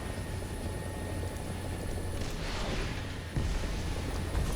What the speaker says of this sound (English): Helicopters are going to be so fun.